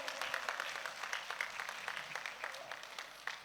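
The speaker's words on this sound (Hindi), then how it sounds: "एक बार पीएसएसएम के लिए और पत्री सर के लिए जोरदार तालियां हो जाए दोस्तों" An audience at a meditation gathering applauds for PSSM and a teacher, with steady, fairly faint clapping that runs continuously throughout, distant-sounding and without speech over it.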